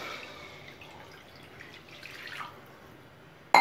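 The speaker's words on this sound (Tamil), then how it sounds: "இப்போ மறுபடியும் அதே கடாயில் தண்ணி சேர்த்துறேன்." Water pours into a kadai pan before vermicelli is cooked, a steady soft splashing that swells slightly, then ends with a sudden loud clunk at the close.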